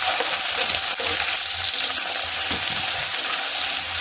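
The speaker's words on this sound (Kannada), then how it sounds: "ಈರುಳ್ಳಿ ಸ್ವಲ್ಪ ಕೆಂಪುಗೆ ಹಾಕೋ ತನಕ ಫ್ರೈ ಮಾಡ್ಕೊಳ್ಳೋಣ." Onions sizzle steadily in hot coconut oil with cumin, fennel, peppercorns, cloves, cinnamon and bay leaf, a dense continuous frying hiss with a light stir, close up and without talk.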